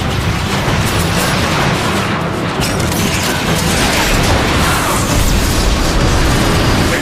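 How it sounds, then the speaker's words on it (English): Heavy warp cannon shelling pounds a plaza in a dense, continuous barrage of loud booming explosions, broadband and relentless for the whole stretch, with no voices over it. "They're shelling the plaza!"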